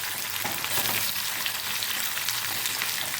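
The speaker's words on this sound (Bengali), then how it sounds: "পেঁয়াজটা আমি এবং গোল্ডেন ব্রাউন করে ভেজে নেব।" Chopped onions frying in a pan for chicken khichdi while being stirred, a steady close sizzle that holds evenly through the whole stretch with no talking.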